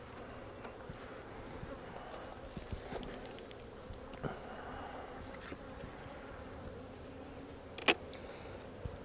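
Honey bees buzz around a strong hive being split during a beekeeping inspection, a soft steady hum of many insects with individual bees passing close, and one brief sharp buzz near the end.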